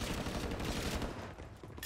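Gunfire in the video game Call of Duty: Warzone, a dense, continuous rattle of rapid shots and booming blasts, loud and close throughout, easing slightly near the end.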